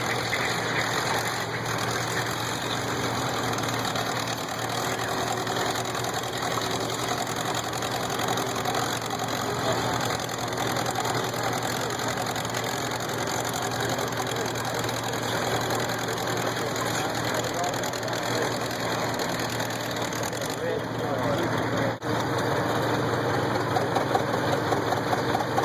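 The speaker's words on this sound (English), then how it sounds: "This tractor was built back in 1952. That's a true tractor there." A 1952 tractor engine runs steadily at a tractor pull, a continuous loud droning idle with low knocking throb across the whole stretch, with some background voices in the outdoor crowd.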